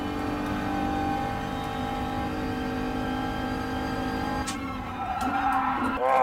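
An Audi TT 3.2 in GT Sport drones at steady engine pitch, then brakes hard near the end, the tires briefly squealing as the engine note drops and wavers.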